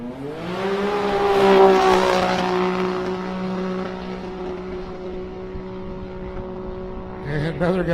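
A Monster Energy Can-Am off-road race vehicle in a Baja desert race roars past, engine note rising as it nears and then trailing off into a steady fading drone, with a brief burst of other noise at the end.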